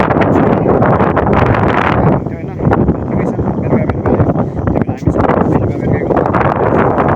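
Strong outdoor wind buffets the microphone on a hillside, a loud, constant broadband roar that swells and dips slightly throughout.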